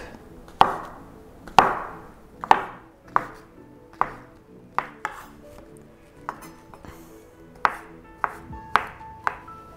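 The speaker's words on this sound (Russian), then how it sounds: "Нам нужно порезать их на небольшие кусочки порционные." Knife chopping mushrooms into small pieces on a cutting board, a dozen or so sharp, separate thuds at an uneven pace, close and clear with no talking.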